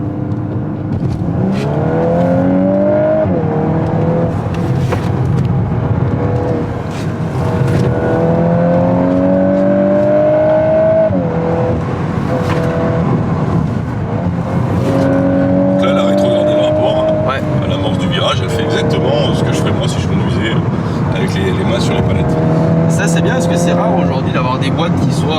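Volkswagen Golf 8 R accelerating hard in S+ mode with the automatic gearbox shifting on its own: repeated rising engine pulls broken by quick upshifts, heard from inside the car with people talking over it.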